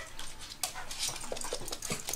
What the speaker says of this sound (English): All right, Pierre, what's that thing making that splashing sound over there?